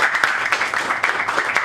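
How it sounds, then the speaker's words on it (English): An audience at a tech cohort graduation ceremony applauds, a brief, dense burst of clapping from many hands that holds steady throughout. "Alright, this is a round of applause on"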